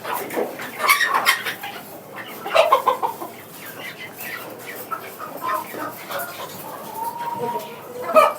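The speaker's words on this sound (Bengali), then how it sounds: "এই যে আমার পাহাড়ি মোরগ" Hill chickens and an aggressive hill-breed rooster clucking nearby in a farm coop with chicks, giving irregular bursts of clucks and calls under intermittent speech.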